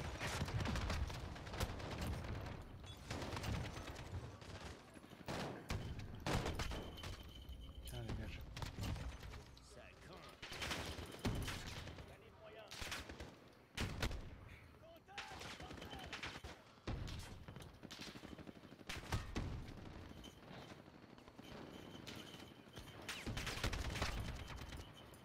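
Gunfire in Call of Duty: Modern Warfare co-op, a long stretch of repeated sharp shots and bursts, mostly mid-distance and fairly quiet, with a voice talking intermittently over it.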